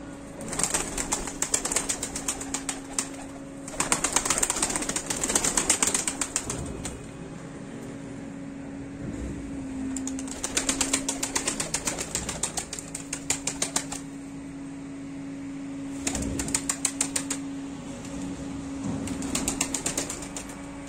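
Young pigeons in training flap their wings in repeated bursts of clattering flutter, loud and close, separated by quieter stretches with a faint steady hum underneath.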